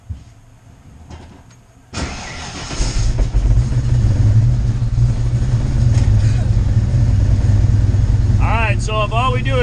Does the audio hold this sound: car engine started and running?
yes